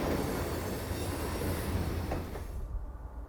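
Norfolk Southern train rolling along a remote, scenic rail line on the Roanoke and Hagerstown districts, a steady loud rumble of cars and wheels with faint squeal, continuous before easing off near the end.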